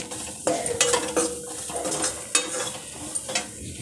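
A spoon scrapes and clinks against a metal pan while red chili powder is mixed into paneer paratha filling, with irregular stirring strokes and sharp taps close up and a faint sizzle beneath.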